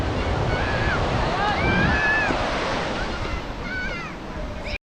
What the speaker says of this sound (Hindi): हवा चल रही है ना